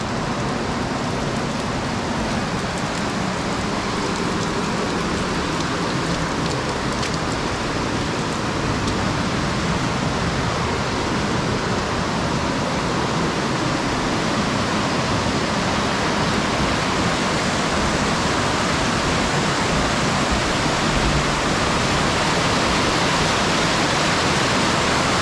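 Akame 48 Waterfalls in full, heavy flow make a dense, continuous roar of rushing and splashing water, loud and steady throughout with no voices over it.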